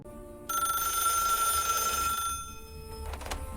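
Telephone ringing in a small 1990s office: after a brief quiet start, a loud bright electronic ring sustains for about two seconds, then fades and trails off, with no talking.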